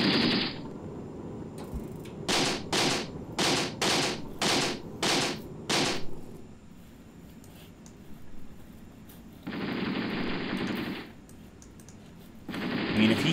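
A machine gun in the war game Graviteam Tactics fires a rapid series of about ten regular bursts. After a pause come two longer sustained bursts of fire.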